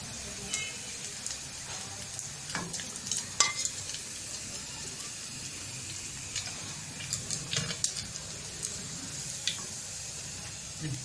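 Lachha pakoras frying in hot oil, a continuous bubbling sizzle with scattered crisp pops and ticks, close and steady without speech.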